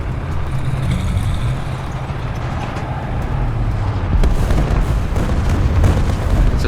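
Heavy rumbling engine and distant booming from an SU-152 Soviet tank destroyer in the War Thunder video game, a loud continuous low drone that swells louder toward the end.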